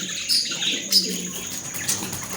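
Australian birds chirp and tweet around a nest box in rapid, high, fairly close calls, repeated over a steady background hiss.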